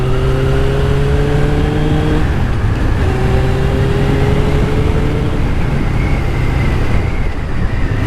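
A Suzuki Katana motorcycle engine, heard close and loud, holds a steady drone, then drops in pitch at each downshift, with a few distinct gear changes over a constant roar of wind and road.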